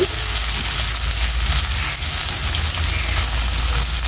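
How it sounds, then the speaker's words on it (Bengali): Onions with white cardamom and cinnamon sizzle steadily in hot oil in a pan, a continuous close frying hiss with no talking. "আমি পেঁয়াজটা হালকা বাদামি করে নিব।"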